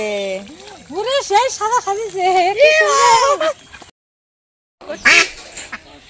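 Ducks gathered for a Bengali New Year picnic quack repeatedly in uneven bursts, close by, with voice-like cries over background chatter before a brief silence and one more loud call.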